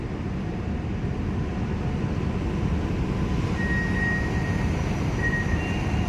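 Container ship Evergreen Lanes leaving Laem Chabang port in Thailand, its engine speeding up as it heads out: a loud, steady low rumble with broadband wash that holds evenly throughout, with no talk.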